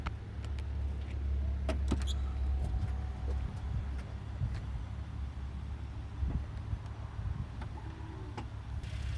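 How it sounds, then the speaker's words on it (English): The automatic power tailgate on a 2017 Buick Enclave in iridium metallic runs with a steady low motor hum and scattered light clicks, close by and fairly quiet throughout. "This unit also has an auto tailgate as well."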